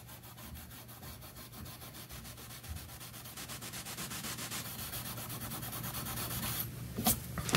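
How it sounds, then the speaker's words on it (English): Steel wool rubs back and forth across the grain of wood with brass inlay on a go board, a close rhythmic scratchy swish that grows louder toward the end. "And here I'm rubbing the wood across the grain with the steel wool"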